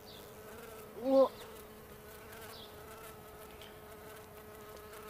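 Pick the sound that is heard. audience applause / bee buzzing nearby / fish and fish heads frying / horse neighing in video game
bee buzzing nearby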